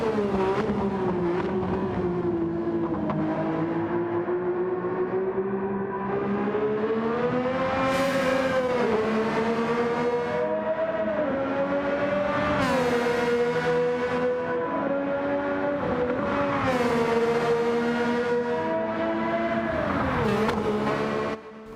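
Screaming high-revving engine of the 1960s Honda RA272 Formula 1 car in Gran Turismo 7, loud and continuous with repeated pitch climbs and drops through gear changes.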